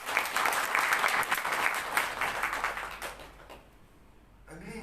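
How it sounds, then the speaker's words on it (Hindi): A church congregation at a Seventh-day Adventist divine service breaks into loud, sustained applause for about three seconds, then the clapping fades and thins out into quieter room sound. "एक बार यीशु मसीह के लिए ताली हो जानी चाहिए।"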